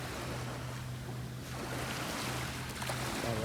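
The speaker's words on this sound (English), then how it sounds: "These are small waves. Very tiny waves." Small, gentle ocean waves wash steadily onto the shore, a soft continuous wash of surf with some wind noise, fairly quiet and without talking.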